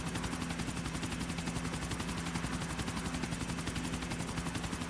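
Helicopter in the video game GTA IV, a steady dense rotor-and-engine drone with rapid chopping pulses that stays loud and constant throughout, with no voices.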